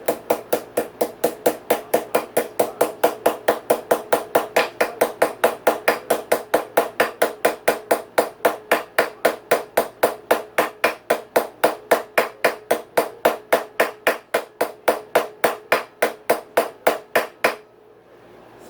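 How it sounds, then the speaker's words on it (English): A hammer strikes a steel steering stem bearing on a dirt bike in a workshop, a fast, steady run of sharp metallic knocks repeating for many seconds before stopping abruptly, loud and close with nothing else heard. "I'm going to hit it with a hammer."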